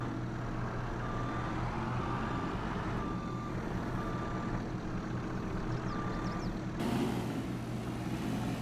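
A Deere 50G mini excavator and a Lizard 863 being loaded in the FS22 video game: a steady diesel engine idle with a repeating reversing beep, ending in a brief hiss like an air brake.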